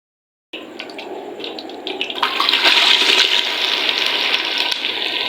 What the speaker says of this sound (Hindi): घी गर्म हुआ तो डाल दी मैंने अरवी। अरवी को हम अच्छे से करेंगे फ्राई।